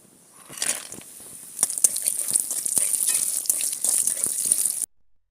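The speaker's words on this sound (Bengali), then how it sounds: "আমি এখন কুমড়ো বড়ি ভেজে নেব।" Pumpkin lentil dumplings (kumro bori) frying in hot oil after fish, a bright crackling sizzle that starts softly and grows louder and steady before cutting off abruptly.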